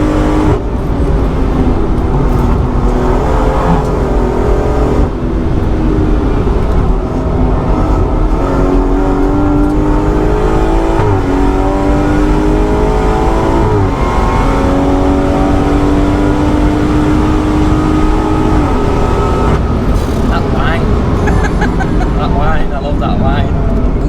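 A 510bhp BMW M240i accelerating hard on a race track, heard from inside as a loud continuous engine roar that rises in pitch through repeated gear changes, with occupants talking over it.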